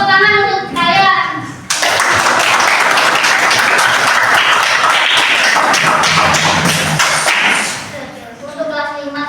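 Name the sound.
children applauding in class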